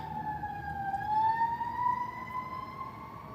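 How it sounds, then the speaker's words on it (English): An emergency siren wails in the distance, its tone rising slowly and holding steady over a low rumble of road traffic. "Oh, there's the sirens."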